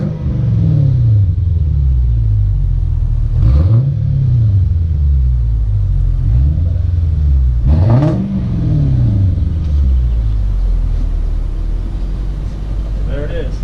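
A loud, deep exhaust on a Lexus GS430, straight-piped with resonator and catalytic converter removed, revs repeatedly, rising and falling in rough surges, with speech mixed in over the throaty rumble.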